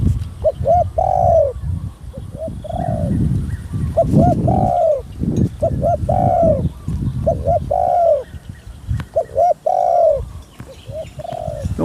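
A trained zebra dove in a Thai cooing contest repeats its rolling coo phrases in a steady rhythm, loud and close, over a low background murmur of the crowd.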